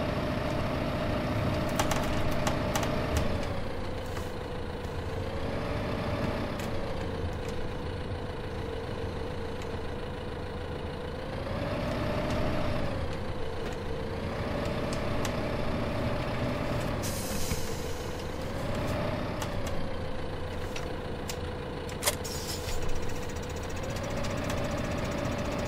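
A tractor engine in Farming Simulator 2015 runs at a steady idle for a long stretch, its drone rising and falling in regular revs. It is joined by occasional clanks and hisses, with no talk.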